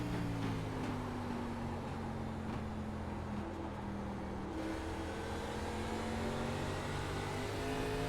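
ARCA Menards Series stock car in iRacing on the USA Speedway short track, its engine holding a steady, fairly quiet drone with slowly shifting pitch and no talk.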